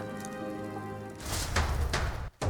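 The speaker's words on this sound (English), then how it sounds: "Just like tonight, it was pouring rain." Heavy rain pours in the Metaphor ReFantazio video game, a soft hiss that builds into louder, denser splashing bursts after a quiet tonal start, with a brief dropout near the end.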